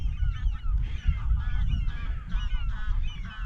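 Seagulls and other birds on an island call over one another in a dense, continuous chorus of squawks and honks, with low wind or surf rumbling beneath.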